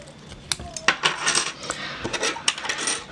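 Metal house keys clink and jingle sharply as they are worked off a split key ring, with a run of bright, irregular metallic taps close up and no talking.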